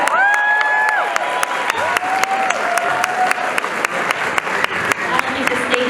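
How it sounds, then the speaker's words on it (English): A crowd applauds steadily and loudly at a swearing-in ceremony, with scattered cheers and a voice carrying over the clapping. "Let's give a round of applause to the transition team."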